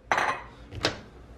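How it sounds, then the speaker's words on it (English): Two clinks of a bowl being set down and shifted on a hard kitchen surface, close by, with a short pause between them. "Gonna put it in a bowl."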